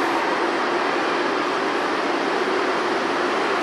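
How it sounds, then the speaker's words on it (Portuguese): Steady, loud broadband rumble and hiss from a CPTM series 2500 commuter train built in China, heard continuously from on board or close by with no voices. "Vou mostrar aqui para vocês um pouco da série 2500 da CPTM."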